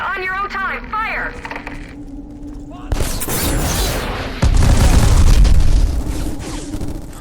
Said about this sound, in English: This is a firefight.